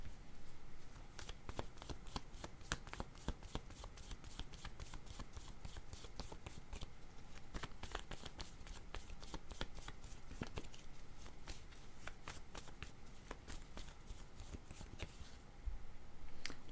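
Picture cards for a card reading are shuffled by hand, a long run of quick, soft riffling flicks and taps at close range, steady and fairly quiet throughout.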